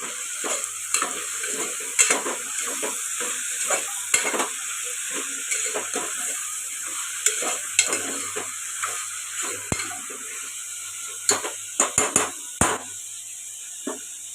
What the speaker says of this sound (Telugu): ఒక నిమిషం పాటు ఫ్రై చేసుకోండి